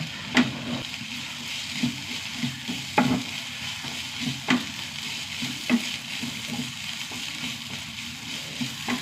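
Crushed garlic and ginger frying with softened onions in a pan, a soft steady sizzle broken by sharp clinks and scrapes of a spoon against the pan every second or so.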